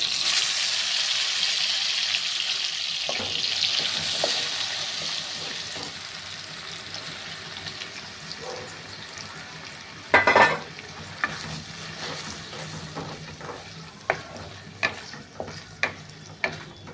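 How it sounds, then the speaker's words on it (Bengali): A banana flower and prawn paste sautés in a pan. A loud hiss fades into a quieter sizzle, then a burst of stirring and repeated spatula taps against the pan follow. "এবার ক্রমশ কষাতে থাকবো।"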